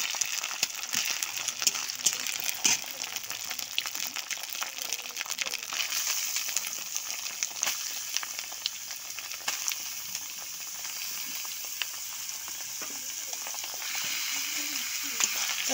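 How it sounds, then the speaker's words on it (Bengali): Ash gourd goes into a hot frying pan with already-fried green chilies for a coconut ash gourd dish, giving a steady, close, bright sizzle of frying that holds throughout with no talk. "আমি এর ভিতরে এখন চাল কুমড়োটা দিয়ে দেব।"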